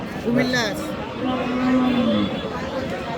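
Cattle low a few times at moderate distance at a cattle market, drawn-out moos heard over a steady murmur of people talking nearby.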